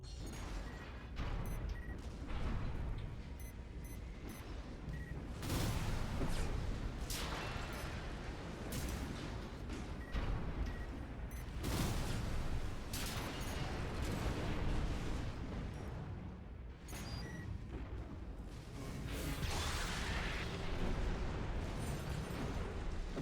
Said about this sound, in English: This launcher equipped to the right shoulder of this AC is capable of multi-lock, which allows you to attack multiple enemies simultaneously